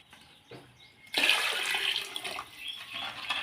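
Water pours steadily into a pot of stingray fish curry after a brief quiet start, a continuous splashing rush that runs to the end.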